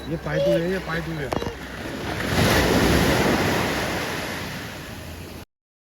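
Sea waves at a seashore at night: a voice talks briefly at the start, then a loud surge of surf swells and slowly fades, with wind rumbling across the microphone.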